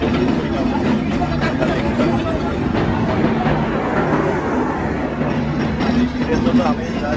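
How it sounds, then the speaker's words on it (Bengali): A crowded train at Alamdanga railway station produces a continuous low rumble and rattle of rolling stock, with a dense babble of passengers and voices mixed in throughout. "আর এখন বর্তমান আছি আলমডাঙ্গা স্টেশন, আপনাদের যদি দেখাই আলমডাঙ্গা স্টেশন এটা।"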